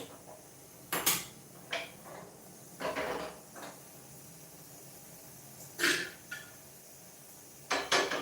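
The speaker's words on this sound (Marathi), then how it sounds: "आता आपण चपाती लाटायला घेणार आहोत तर मी कुकर पलीकडे ट्रान्सफर करते" A pressure cooker is shifted aside on a kitchen stove, giving a handful of short metallic clunks and knocks spaced out over quiet room tone.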